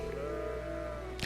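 Sheep bleat from the video game Trails of Cold Steel, a drawn-out bleat heard over a quiet ambient background, ending in a sudden burst of noise.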